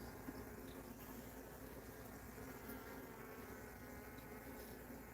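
Honeybees hum around open beehives during an inspection, a soft, continuous buzzing drone that stays faint and even throughout, with no talking.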